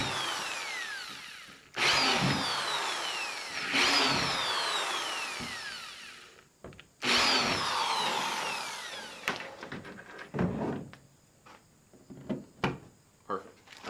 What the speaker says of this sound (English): we're going to bore it out to 13/64 for the bolts that I bought